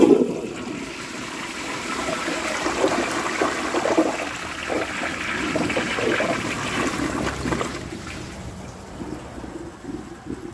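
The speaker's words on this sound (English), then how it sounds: "this toilet just wants to eat everything I feed it" A 1953 Crane Santon toilet flushes a dish towel down with a loud, rushing gurgle of water that swells, holds for several seconds, then trails off into a quieter trickle.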